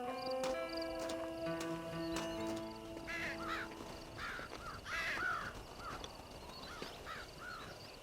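Crows caw repeatedly in Red Dead Redemption, a cluster of harsh calls in the middle and end of the clip, moderately distant and partly under sustained background music.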